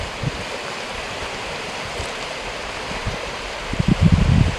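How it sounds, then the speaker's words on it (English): Creek running below a hillside on rural hunting acreage in California, a steady broadband rush of flowing water close to the microphone, with a few louder low splashes and some wind buffeting toward the end. "Got the creek there."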